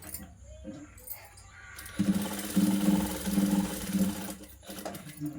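A sewing machine stitching a blouse sleeve runs in a steady, rapid mechanical whir for a few seconds after some handling noises, then stops briefly before starting again.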